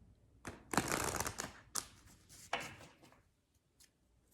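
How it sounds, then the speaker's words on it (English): Tarot cards being shuffled up close in several quick riffling bursts, each a dense papery flutter, separated by short pauses and ending in quieter taps. "These have already been shuffled, but just so you know, they're shuffled again."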